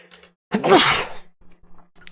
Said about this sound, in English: I'm never gonna stop sneezing.